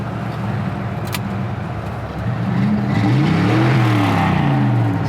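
A HEMI-engined Ford Mustang revs with its exhaust cutouts open, the engine note swelling louder after about two seconds into a deep, rising and falling roar that is close and steady, with no talk over it.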